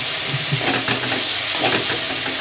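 Mustard paste in a pan, with a little water just added while cooking stuffed pointed gourd, hisses and sizzles loudly and steadily close up.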